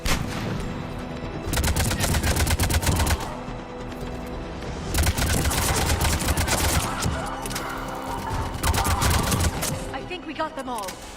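Rapid automatic gunfire sustained through long bursts against turrets during a video game firefight, loud and close, with brief pauses between volleys and a voice breaking in near the end.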